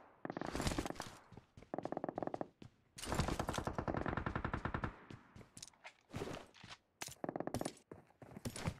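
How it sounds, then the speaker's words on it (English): Bursts of MG3 machine gun fire in PUBG Mobile, rapid rattling volleys in several separate strings with short gaps between them, sounding far off and unaccompanied by speech. "Someone is shooting with MG3 quite far away."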